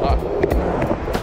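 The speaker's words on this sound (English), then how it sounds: "So I gotta do the 4 foot grind." A skateboard does a frontside grind on a ramp, with rolling wheels, scraping truck contact and sharp clacks in quick succession, close and loud, with some voice mixed in.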